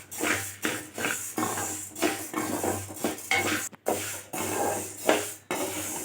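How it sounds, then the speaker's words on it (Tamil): Lentils being dry-roasted in a pan for idli podi are stirred continuously, a close scraping and rattling of spoon against pan in repeated strokes with brief breaks and a low steady hum underneath. "கைவிடாமல் கொஞ்சம் கலந்துக்கிட்டே இருந்தால் தான் உங்களுக்கு எல்லா பருப்பும் ஒரே மாதிரி ஈவனாக நல்லா வறுப்படும்"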